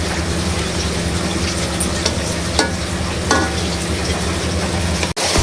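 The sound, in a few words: potatoes being sautéed in spice masala for rui fish curry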